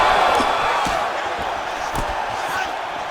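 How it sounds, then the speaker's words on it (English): A large arena crowd at an MMA fight roars in a sustained, loud wash of cheering that eases slightly partway through, with a few faint thuds and shouts inside the din. "big pop from the crowd as they get back to their feet"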